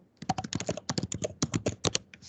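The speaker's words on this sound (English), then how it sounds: "Hearing someone typing" Rapid typing on a computer keyboard picked up through an open microphone during an online lecture, a close, dense burst of crisp key clicks in quick irregular rhythm, with no talk.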